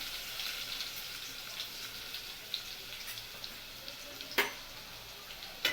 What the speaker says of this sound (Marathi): हे तडतडले की आपण लसूण टाकायचा